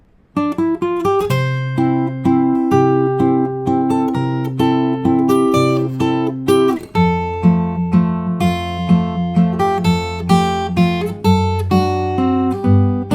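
The third part of a theme from Up rings out on fingerstyle acoustic guitar, with bright plucked melody over lower bass notes in a steady, lilting rhythm, close and solo without voices.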